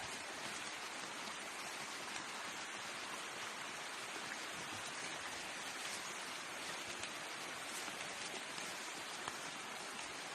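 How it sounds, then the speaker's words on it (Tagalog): Heavy rain pours steadily, a dense continuous hiss of drops drumming on surfaces, with no voices. "Ulan, kusog ng ulan."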